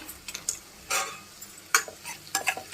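Onions and green chillies fry in a pan, a low sizzle broken by bursts of stirring and the scrape and tap of a spatula against the metal, with no speech.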